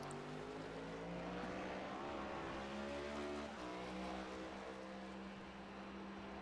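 A NASCAR next-gen car lapping Watkins Glen in iRacing, a steady loud engine drone whose harmonics climb and fall through the gears, heard from close on board throughout.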